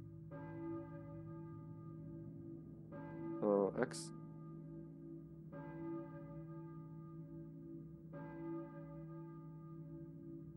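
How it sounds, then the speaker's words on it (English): Church bell tolling inside the Balkan Church in the PSX game Silent Hill, three or four slow strikes with long ringing decays over a low ambient drone, plus a brief sharp accent near the middle. "I hear a church bell, I think. But who is ringing it?"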